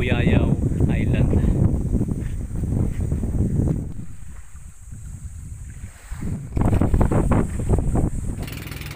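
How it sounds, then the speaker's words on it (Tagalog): A boat motors around Buyayaw Island off Oriental Mindoro through strong waves, with steady engine and water noise plus wind buffeting the microphone, under people talking. "So ngayon ay sasakay na kami sa aming bangka para ikutin natin ang kabuuan ng Buyayaw Island."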